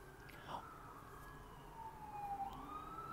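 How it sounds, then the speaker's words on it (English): A faint siren wails in the distance, its pitch sliding slowly up and down beneath a low background rumble. "There go the sirens."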